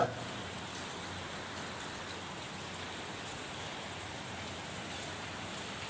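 Heavy rain falls in Ernakulam, Kerala, as a constant even wash of noise that holds steady throughout, with nobody speaking.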